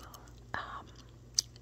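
Gum chewed very close to the microphone in a quiet ASMR setting: one soft wet squelch, then a sharp little click, with faint whispering around it.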